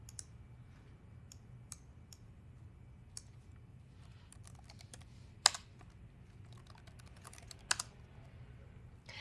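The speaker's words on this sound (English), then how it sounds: "All you need to do is type in the hostname or IP address of the computer you want to connect to." A hostname is typed on a computer keyboard as scattered, quiet key clicks in short bursts, with a couple of sharper taps, close and alone over faint room hum.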